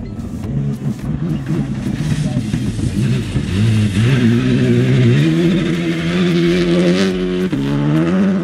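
A Skoda turbo rally car at the WRC Safari Rally in Kedong revs hard, its engine note climbing and falling in loud, close sweeps while spectators talk over it.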